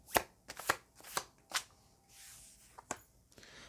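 Tarot cards are shuffled in crisp bursts of riffling and tapping, several quick close flurries with brief pauses between them, fairly quiet and with no talk.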